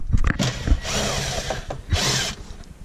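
An impact gun, used while fitting LED tail lights to an MK7 GTI, fires in two short whirring bursts close by, preceded by clattering handling noises.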